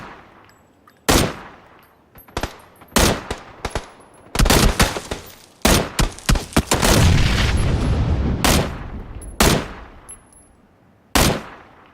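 Gunfire in the PUBG battle royale video game, with loud single shots and rapid bursts, including a dense sustained volley in the middle and scattered sharp reports before and after.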